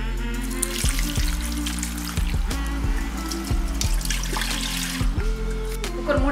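Water runs steadily from a tap into a pressure cooker pot holding whole boiled chicken and goat chest bone, a continuous trickling splash close by with faint metallic clinks.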